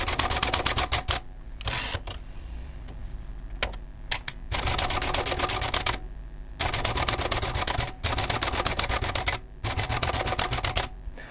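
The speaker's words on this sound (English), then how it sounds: "So I'll just run through each of the keys." Keys of an Imperial 200 typewriter strike in quick bursts one after another, sharp close clacks grouped into runs separated by short pauses, with no talking.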